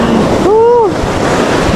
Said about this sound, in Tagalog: Ang lalaki talaga ng alon mga master.